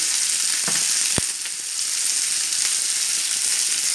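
Mackerel coated in semolina frying crisp in a pan: a loud, steady, close hiss of hot oil continues throughout, broken by one or two brief knocks from the pan or utensil.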